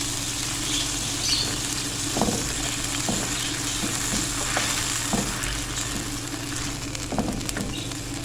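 Grated jaggery melts in a pan, a soft steady sizzle and bubbling with occasional light stirring scrapes and taps, close and moderately quiet, without speech.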